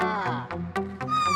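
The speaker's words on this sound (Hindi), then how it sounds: "वो बिल्ली के रोने की आवाज ज्यादा आ रही है।" A cat gives a string of four or five plaintive, drawn-out meows in quick succession, close and clear, with no other sound around them.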